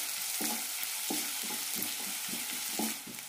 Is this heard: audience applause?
no